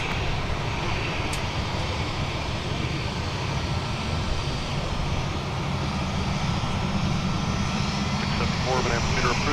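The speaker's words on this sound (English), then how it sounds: "looks like that 737 is tailgating this 757-300" Jet airliners including a Boeing 737 and a 757-300 at Minneapolis–St. Paul airport, a steady broadband engine roar holding loud throughout, with voices and radio chatter mixed in.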